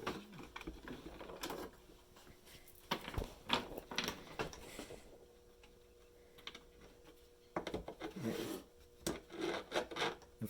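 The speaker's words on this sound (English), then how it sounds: "just use a flat file." A flat file rasps back and forth over the burrs on a chainsaw drive link braced on a piece of wood, giving close, uneven bursts of scraping strokes separated by short pauses.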